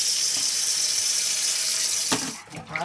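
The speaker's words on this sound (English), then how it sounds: "I'll show you how to wash perilla leaves." Tap water pours steadily into a sink while perilla leaves are washed, a loud even stream that stops abruptly near the end, followed by a few faint drips and a squeak.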